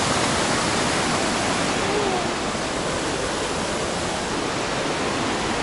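Rushing river water flowing past an old flour or grain mill in the Corsican mountains, a loud, steady broadband roar with no breaks.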